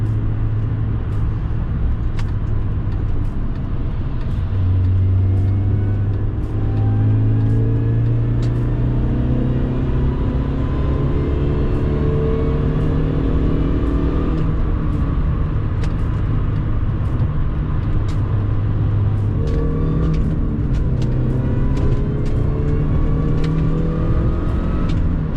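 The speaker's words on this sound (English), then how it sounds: "You hear the engine noises now" A Mini Cooper's supercharged engine with an upgraded pulley revs and accelerates repeatedly, rising and falling in pitch with gear changes, loud and close from the cabin, with occasional clicks.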